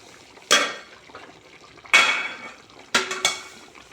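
A utensil scrapes and knocks against a pot of simmering Tamil tuber curry four times in irregular bursts, with a faint bubbling sizzle between the strokes.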